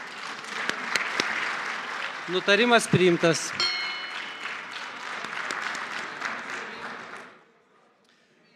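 Parliament members in the Lithuanian Seimas applaud a unanimously adopted resolution, dense sustained clapping that carries on after a brief spoken announcement and then dies away to near silence.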